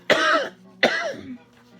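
Two distinct, loud coughs from one person, about three-quarters of a second apart, each a harsh burst that trails off, with a faint low hum in the background.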